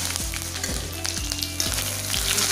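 Curry leaves and dried red chillies crackle and sizzle loudly in hot oil, a close, dense frying hiss with rhythmic spatula scrapes about every half second.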